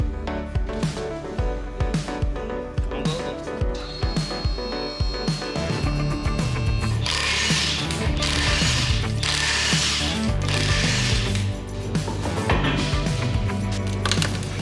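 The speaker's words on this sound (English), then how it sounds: "Now the vehicle is ready to go in the air." Vehicle lift raising a Mazda Miata in a shop, a steady mechanical clatter of ratcheting pawls and gears running continuously and fairly loud throughout, with no talking.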